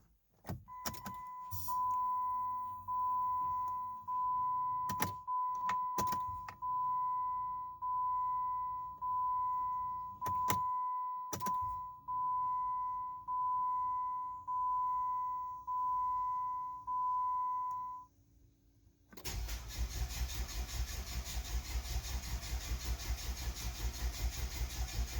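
A Jeep WK CRD diesel cold-starting at -30C: a long steady electronic tone with scattered clicks while the glow plugs cycle, then a short pause before the engine cranks and catches into a loud, rough, continuous idle.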